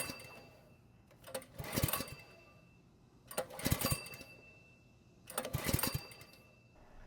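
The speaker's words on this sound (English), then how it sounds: "pull the rope a few times" A pressure washer engine's recoil starter rope is pulled three times, each pull a loud whirring rasp of about a second and a half, separated by short quiet gaps.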